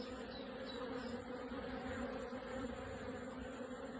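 Honey bees hum on a frame just lifted from their hive, a close, even buzzing swarm that holds steady throughout with no voices.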